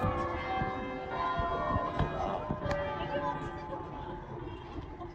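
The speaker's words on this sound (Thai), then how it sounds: "ชอบเวลามีเสียงระฆังค่ะนั่งฟังเพลินนะคะ" Church bells in York, England, in winter ring steadily in the distance, layered tones sustained throughout, with some faint background activity beneath.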